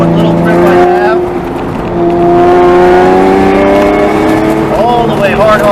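Car engine straining and accelerating through an autocross course, loud and close, with revs climbing in long sweeps and dropping near the end, a driver talking over it.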